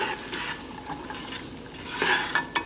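Leeks, onion and garlic sautéing in a pot, with a soft steady sizzle under light stirring and a few close utensil clinks and scrapes against the pot near the end.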